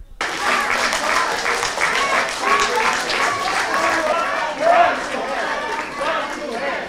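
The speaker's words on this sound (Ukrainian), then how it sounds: "Інші проводили їх оплесками." Clapping breaks out in a meeting hall during a Ukrainian public hearing on renaming streets, as some attendees see off departing Soviet officers' union members, with voices and movement mixed into the continuous applause.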